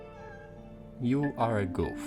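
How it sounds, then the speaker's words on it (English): A pet cat meows several times up close, its drawn-out, rising and falling calls clear and loud, with a person speaking softly just before. "Yes, that is my cat."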